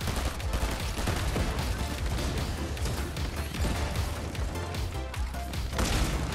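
Rapid cannon gunfire in the video game Fortnite, a loud, continuous barrage of overlapping booms and blasts with dense impacts throughout, no voices over it.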